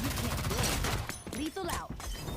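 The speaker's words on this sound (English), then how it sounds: "Panic shooting." Gunfire in a first-person shooter video game, quick bursts of sharp shots and impacts during a tense moment, mixed with a talking voice.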